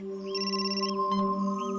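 A phone rings with a repeating electronic ringtone, a bright warbling melody over a steady tone, close and clear with no voices.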